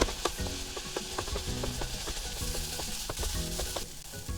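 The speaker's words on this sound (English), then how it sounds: "we're gonna be mixing like this for about 2 to 3 minutes until the carrots and the daikon radish will be cooked through" Carrots and daikon radish stir-frying in a hot pan, a steady loud sizzle with repeated scraping and tapping of the utensil tossing the vegetables, close and continuous.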